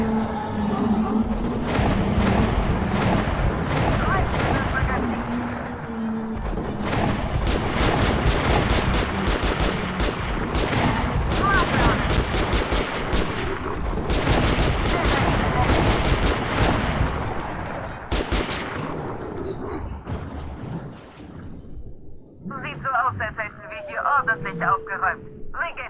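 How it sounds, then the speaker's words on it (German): Gunfire in Metro: Last Light on Hardcore in the botanical garden level, loud continuous bursts of automatic shots and rattling fire with a voice speaking over the battle, easing off near the end. "Ich schieße."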